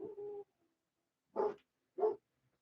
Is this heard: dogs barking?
yes